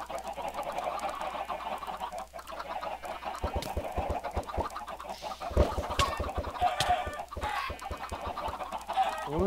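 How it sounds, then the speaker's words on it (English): Chickens clucking in a video game, a busy run of short overlapping clucks and squawks set against a steady game soundtrack with chaotic sound effects. "We definitely have chickens."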